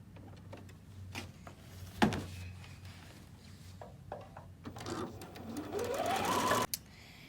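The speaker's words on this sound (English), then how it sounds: "I'm going to finish pinning and I'll see you at the sewing machine." A sewing machine stitches in short bursts, then runs in a longer rising whir before stopping abruptly, with small clicks and handling sounds between.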